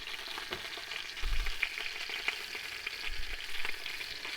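Soft, steady sizzling of food frying in a pan, with faint crackles and a couple of low thumps.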